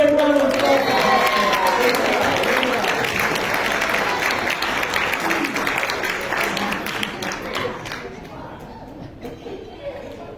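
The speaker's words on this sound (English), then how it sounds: "Everybody give her a big round of applause." Magic show audience breaking into loud applause with cheering and chatter, dense clapping that stays strong for most of ten seconds before thinning out and fading near the end.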